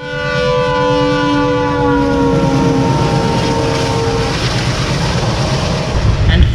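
A train crossing the Thar Desert between Jodhpur and Jaisalmer, a loud steady rumble of wheels on track with long sustained horn-like tones early on, close and continuous.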